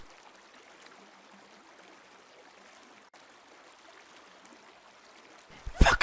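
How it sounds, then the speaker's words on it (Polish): Water flows faintly in a soft, steady hiss. Near the end, a sudden loud burst of noise breaks in. "Słyszeliście to? Jakby woda płynęła."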